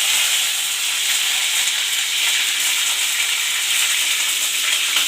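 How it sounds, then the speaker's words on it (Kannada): Black mustard seeds crackle and pop in hot oil in a pan, tempering for an egg burji; a dense, continuous sizzle with rapid bright spatters at close range, no voices. "ನೋಡಿ ಈ ಥರ ಸಾಸಿವೆ ಪಟ್ ಅಂತ ಎಗರಬೇಕು"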